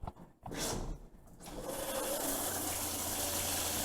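Automatic shower in a campground shower stall switching on, water spraying steadily and loudly at close range after a brief start-up, continuous hiss that fills the space.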